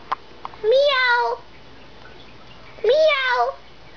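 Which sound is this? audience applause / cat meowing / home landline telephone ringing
cat meowing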